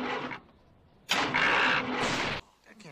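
A cartoon car engine struggling to start in snowy cold, a short burst of sound, a pause, then a loud sustained grinding crank that cuts off abruptly, followed by faint rattling.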